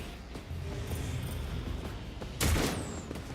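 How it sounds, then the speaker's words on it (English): An explosion in the video game Warhammer 40k Rogue Trader, a sudden loud burst rising from a low rumbling background of battle noise, brief and close. "I did not like that explosion."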